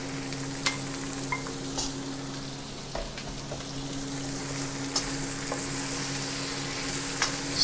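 Carrot frying in a pan with a steady, soft sizzle, broken by occasional scrapes and clinks as it is stirred, recorded close up with no talking.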